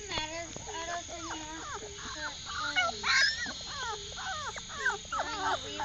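Newborn puppies from a first litter whimpering and yipping, a steady chorus of faint high cries close by, under quiet background noise.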